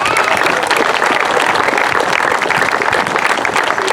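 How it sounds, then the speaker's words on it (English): Loud, dense applause from a crowd at a youth baseball clinic in a memorial park, honoring the coaches; continuous clapping fills the whole stretch close to the microphone. "how about a round of applause for all our outstanding coaches?"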